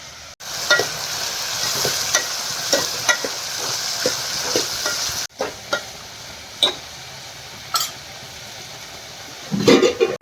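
A spoon scrapes and clinks against a pot of kheer with milk in irregular strokes over a steady simmering hiss, close up and without voices.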